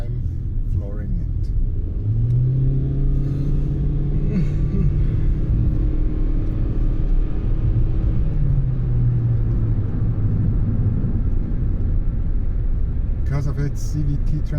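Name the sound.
Toyota Yaris Hybrid accelerating at full throttle, loud CVT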